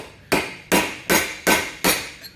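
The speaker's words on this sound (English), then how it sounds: "I'm going to grab my hammer again and my chisel again and hook onto the inside race here a little bit" A hammer strikes a chisel against the inner bearing race of a Ford 9 inch center section, five sharp metallic taps evenly spaced about 0.4 seconds apart, loud and close with ringing decays and no speech.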